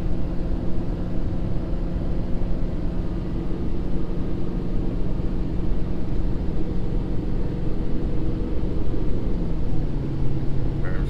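A Ford Powerstroke diesel truck with an S&B air intake, towing about 31,000 lbs uphill in fourth gear, drones steadily with a low engine rumble and turbo whine throughout, loud and close, without speech.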